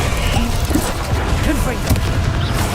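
Incendio fire spell cast in Hogwarts Legacy, a series of booming whooshing bursts and thuds in quick succession amid combat noise, loud and close, with a voice speaking over them.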